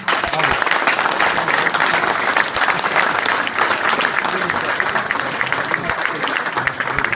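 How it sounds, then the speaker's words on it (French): Loud, dense applause from an audience fills the room, a continuous crackle of many hands clapping with no break, steady and close throughout. "je vous applaudis."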